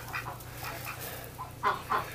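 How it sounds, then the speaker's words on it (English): Nesting ducks give several soft quacks close by, spaced across a quiet stretch over a low steady hum, the last two louder. "My little duck."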